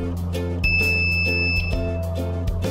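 An analog multimeter emits a steady electronic continuity beep while its probes test a diode in an alternator rectifier. The tone cuts in partway through and holds over a low background hum.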